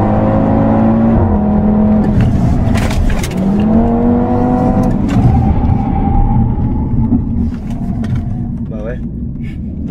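A vintage Citroën Traction Avant driving through Paris: a close, loud engine drone with whining, shifting mechanical tones that rise and fall as it moves, and people talking over the noise.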